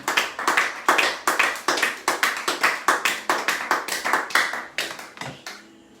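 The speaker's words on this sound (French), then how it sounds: "Est-ce que nous pouvons acclamer notre Dieu pour cet instant?" A congregation in church applauds God in a steady burst of loud, close clapping lasting several seconds, with sharp rhythmic slaps that thin out toward the end.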